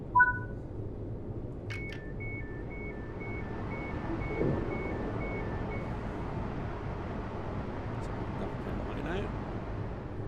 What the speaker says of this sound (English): So that's the happy beep warning us of the signal up ahead is green.